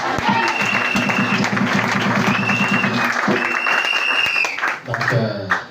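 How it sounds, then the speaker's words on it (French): Church congregation applauding together during a French-language Sunday service, a dense, sustained clapping that fills the room loudly for several seconds before tapering off, with voices mixed in. "Est-ce qu'on peut acclamer pour le Seigneur?"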